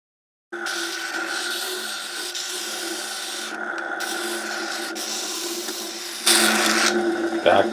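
Wooden blank ends being rounded off by hand during guitar neck joint work, a continuous rasping scrape of tool on wood running steadily for several seconds, close and fairly loud, with brief pauses and a harsher stroke near the end.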